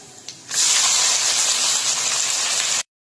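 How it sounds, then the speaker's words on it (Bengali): Onions tipped into hot oil for mutton curry erupt into a sudden loud, steady hiss of sizzling after a brief clatter, continuing evenly close up for a couple of seconds before cutting off abruptly. "আমি এবার এতে পেঁয়াজ অ্যাড করে দেবো"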